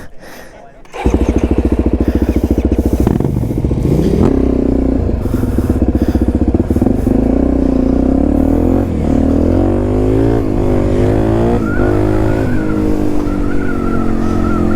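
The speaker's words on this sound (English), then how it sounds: "we're on a DRZ 400" Suzuki DRZ 400 motorcycle riding, a loud close engine drone that climbs and shifts in pitch as it accelerates, steady throughout after a brief quiet start, with a voice speaking faintly over it.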